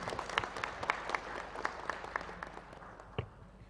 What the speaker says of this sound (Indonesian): Mari beri tepuk tangan yang meriah untuk kita semua